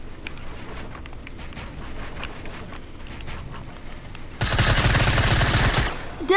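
Video game gunfire ends in a sustained, loud burst of rapid automatic shots that lasts about a second and a half, following a stretch of quieter background game noise with scattered faint shots.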